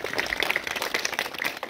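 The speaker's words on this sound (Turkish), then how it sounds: "Alkışlayalım." Children in a classroom clap together in a short burst of steady, fairly faint applause, with no talking over it.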